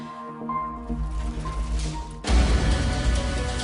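Water gushes from pipes severed by a hotel skywalk collapse, pouring from the building's giant tanks into the lobby; soft tonal music gives way to a sudden loud, continuous rushing, splashing roar.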